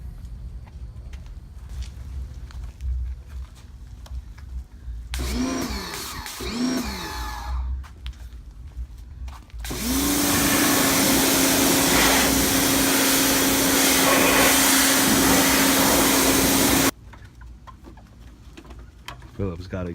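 A pressure washer cleans a dirty mini bike, kicking in after quieter handling noises as a loud steady motor drone with hissing spray that runs for several seconds, then cuts off abruptly.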